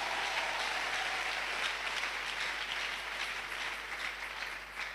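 A church congregation applauds during a sermon, a steady wash of many hands clapping at moderate distance, sustained throughout without talk.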